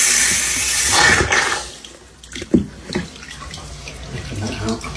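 Water gushes from an opened shower mixer tap during a flow-rate check, a steady loud rush with a few splashing bursts partway through.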